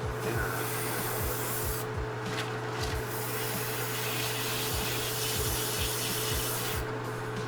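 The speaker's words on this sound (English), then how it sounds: "So it's just spraying pretty much just pure thinner." Steady hissing spray of pure thinner through a BD-130 airbrush, with the constant mechanical hum of an AS-186K compressor and tank underneath and faint periodic ticking, continuous throughout with no pauses or voices.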